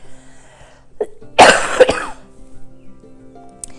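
One loud, harsh cough close to the microphone, with a quieter throaty follow-up, set against a faint background hum.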